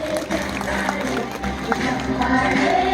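A crowd applauds and cheers continuously, dense clapping filling the space with a steady roar.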